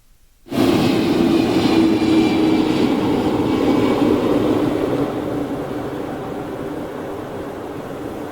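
A pure freighter jet lands at Chicago O'Hare, its loud, broad engine roar beginning suddenly and holding steady before easing slightly toward the end, with no voices.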